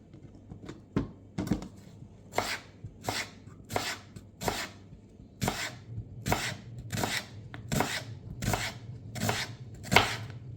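Knife chopping onion, garlic and ginger on a cutting board, about a dozen crisp single chops that quicken toward the end, close and alone.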